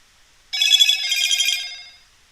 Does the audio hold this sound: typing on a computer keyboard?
no